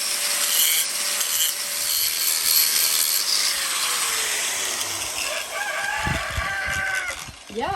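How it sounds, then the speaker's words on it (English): A rooster crows near a chateau while an attic is being renovated, its call rising late and fairly faint beneath continuous loud scraping and rubbing of stone or wood. "the rooster"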